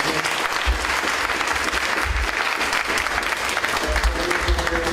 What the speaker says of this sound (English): give Chris a round of applause again